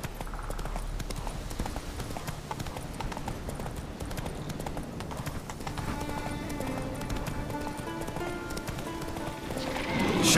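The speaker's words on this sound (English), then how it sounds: "Come on, Roach" A horse gallops in The Witcher 3 video game, its hoofbeats a fast, steady, close clip-clop that runs throughout, with tonal music building in the background during the second half.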